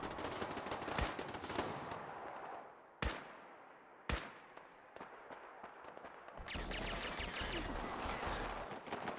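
Gunfire from attacking Gunners in the Fallout 4 video game: sharp bursts of shots, a few isolated loud cracks, then a denser sustained volley toward the end.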